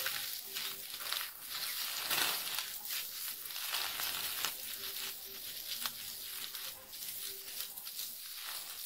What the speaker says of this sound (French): Remuez à nouveau jusqu'à ce que l'oignon soit ramolli et l'ail frit.